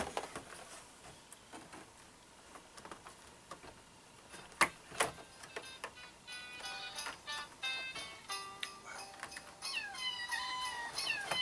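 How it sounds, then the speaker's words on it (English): A cat meows several times, rising and wavering calls with ticking and small clicks scattered around, fairly close and moderately quiet. "This cat's meowing."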